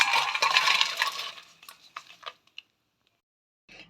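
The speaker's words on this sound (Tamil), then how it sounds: "இப்போ இதை எடுத்து ஒரு பாத்திரத்தில் மாற்றிப்போம்" Fried dried chillies are tipped from a kadai into a pot, giving a dense crackly rustle and clatter at first that thins into a few scattered taps, then silence and a brief final rustle.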